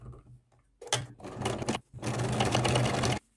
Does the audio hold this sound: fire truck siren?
no